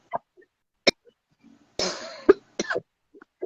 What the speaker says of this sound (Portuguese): Eu vou pegar água, gente, porque essa tosse está danada.